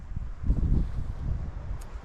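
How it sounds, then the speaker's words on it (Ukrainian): Wind gusting through a forest, a low rumbling buffeting against the microphone that swells around the middle and then settles, with faint rustle behind. "Вітер такий пішов, зараз буде дощ падати."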